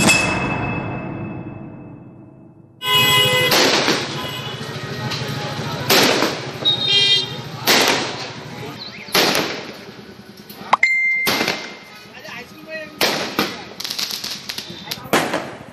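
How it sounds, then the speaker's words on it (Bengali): Firecrackers burst repeatedly at an evening wedding celebration near a hospital in Islampur, North Dinajpur, loud sharp cracks and bangs coming in irregular clusters after a quiet start, with voices in the background. "বিয়েতে দেদার ফাটানো হলো বাজি।"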